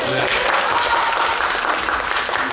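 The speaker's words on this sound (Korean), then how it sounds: "한번 박수 한번 주세요" At a picture-book forum, an audience claps for a group of first-year university students, a loud, dense round of many hands with speech mixed in.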